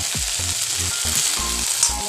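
Ingredients for a chutney frying in a little oil in a pan, a close, steady crackling sizzle with soft rhythmic stirring knocks throughout.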